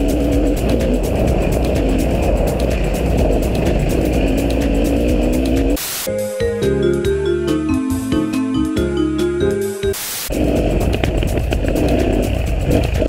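A KTM 950 SE adventure motorcycle runs on a dirt trail, its engine droning steadily with wind and rough-ground rattle, interrupted midway by a stretch of musical backing before the riding noise returns.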